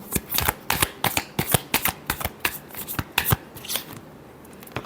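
Tarot cards are shuffled in a quick run of crisp riffling snaps, a dozen or so close bursts in an uneven rhythm that slows and fades near the end.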